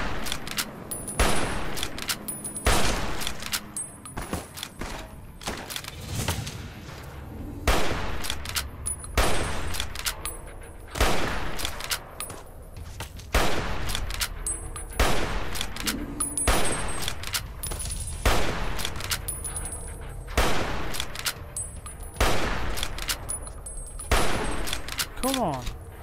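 Gunfire from the video game Fallout New Vegas, in the Old World Blues DLC: loud repeated shots and short bursts in rapid clusters with brief gaps between them, and a voice talking now and then between the volleys.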